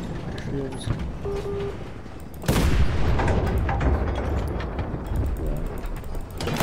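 A sudden loud blast goes off in the World War II shooter Enlisted, breaking through steady battlefield noise and mechanical clatter, with players talking over the game throughout.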